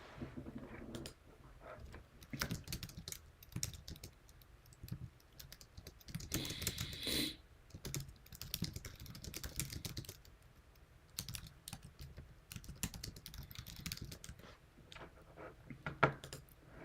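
Keyboard shortcuts typed on a computer keyboard during video editing, with quiet, irregular bursts of key clicks and taps, some rapid runs and brief pauses, close and faint.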